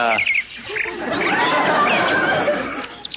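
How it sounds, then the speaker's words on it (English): Several birds chirp and trill in a quiet residential neighborhood in Sherman Oaks, their calls overlapping into a busy, fairly loud chorus. "hear the birds?"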